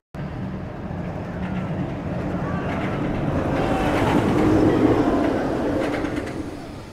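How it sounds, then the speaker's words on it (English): ArieForce One, an RMC steel roller coaster with an iBox track and a chain lift hill, rumbles past as a continuous broadband roar that swells toward the middle and fades slightly, with birds faintly audible in the open-air park. "ArieForce One is an RMC steel coaster with an iBox track"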